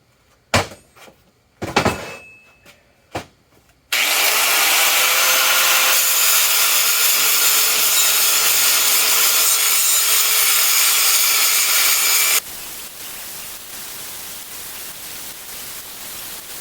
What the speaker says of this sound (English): We're going to cut around this weld until we can remove this tube.